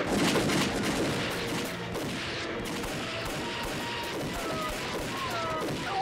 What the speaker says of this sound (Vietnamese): này thì bắn này.